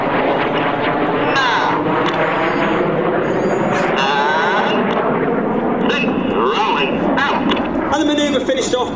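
Red Arrows jets fly a negative G barrel roll at the Sywell Airshow 2024, a loud continuous roar of jet engines with crackling rumble, while a commentator talks over it.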